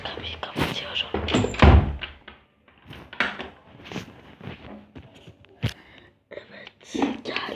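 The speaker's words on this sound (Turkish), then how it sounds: "Kapıyı kapatıyorum." An indoor door closes with a dull, heavy thunk, surrounded by scattered rustling, footsteps and handling noises, with some soft whispering nearby.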